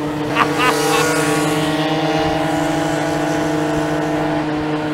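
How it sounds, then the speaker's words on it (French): A Magnum Hyper moped engine passing uphill on a 2000-metre mountain climb, a sustained buzzing two-stroke drone that holds steady throughout, close and loud, with brief voices near the start. "il y a une Magnum Hyper qui va me fumer"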